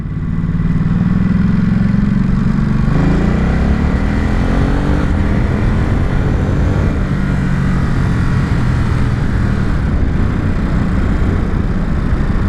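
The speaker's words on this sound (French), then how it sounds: "Et vas-y que l'échappement pétarade." A Ducati SuperSport 950 S motorcycle accelerates hard, its engine drone rising and falling loud and close, with exhaust popping mixed into the steady roar throughout.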